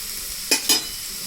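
Potato fry tossed with chili powder in a pan, heard as two quick, close spatula scrapes over a soft background hiss.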